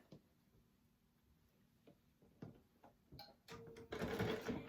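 A sewing machine makes a few faint, spaced stitch ticks while back stitching on fabric binding for a crochet needle case, then runs louder and faster in a close burst near the end.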